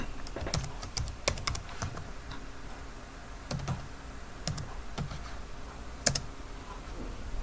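Typing a password on a computer keyboard in Linux Mint: scattered clusters of sharp key clicks with pauses between bursts, close and fairly quiet, with no voice.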